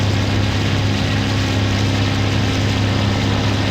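Propeller engine of a Russian WWII fighter in IL-2, a loud, steady droning hum with strong low harmonics, continuous and unchanging with no voices.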